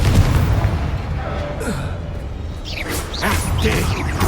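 A Confringo spell explosion in Hogwarts Legacy, a fairly loud boom with crackling blast noise and debris over a few seconds, with a voice speaking faintly in the background.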